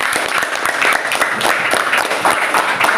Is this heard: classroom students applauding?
yes